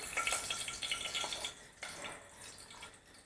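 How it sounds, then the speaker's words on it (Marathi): A bay leaf drops into hot oil and sizzles in a steady, fairly quiet crackling hiss, fading a little partway through. "तेल गरम झालेलं आहे पहिल्यांदा आपण तमालपत्र घालायचं"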